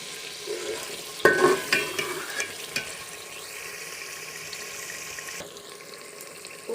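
Rice and spices for matar pulao, with salt and garam masala, fried and stirred in a pot. A burst of clattering scrapes and stirring comes first, then settles into a steady sizzle with occasional knocks.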